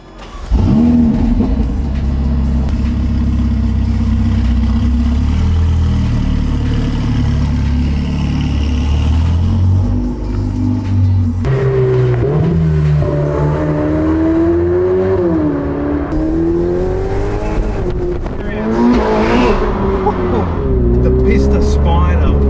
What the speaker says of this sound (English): Just jump in and take it for a spin. And that is exactly what I'm doing right now.